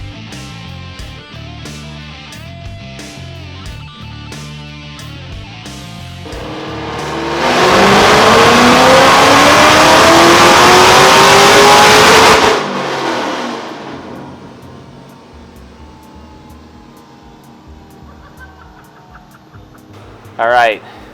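A supercharged 2014 Ford Shelby GT500 on a full-throttle pull, its engine roaring loud and close as pitch climbs steadily, then cutting off to a lower idle-like rumble with a brief burst near the end.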